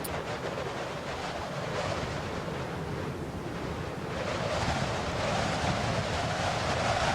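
Strong, gusty morning wind in Torres del Paine, Patagonia, a loud broadband roar buffeting the microphone continuously and swelling stronger in the second half.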